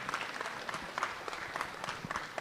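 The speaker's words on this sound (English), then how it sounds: "you can give a big round of applause for yourself" A small group at a road safety hackathon claps steadily in rapid, scattered applause, soft and slightly distant, with no voices over it.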